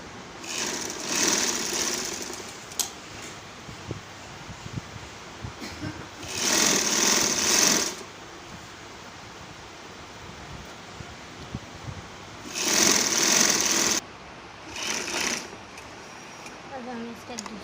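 A sewing machine stitches the side slits of a kurti in two main bursts of a couple of seconds each, with shorter runs around them, separated by quiet stretches of handling.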